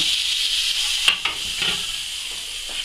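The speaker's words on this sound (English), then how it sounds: "So I'm just going to drop in a little bit of butter to stop it burning, I'm going to add a little bit of oil" Butter and a little oil melting gently in a hot pan before woodcock goes in, making a steady close hiss and sizzle with a few brief pops and clinks.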